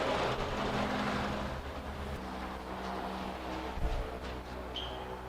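A 2006 Honda Element idles steadily with a low engine drone throughout, the tone dropping slightly partway through as the automatic transmission shifts through its gears, with a faint click near the end.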